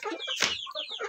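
A pet chicken gives a short burst of quick clucks with a brief rustle in the middle, close and fairly quiet.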